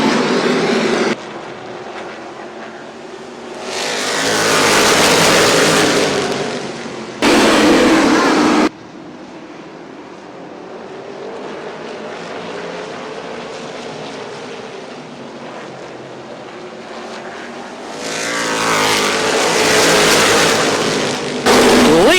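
Tri-State sprint race cars roar around the track, with loud engine passes building and fading in waves, one sustained pass and a short sharp burst, then another approaching surge, while an announcer talks faintly underneath.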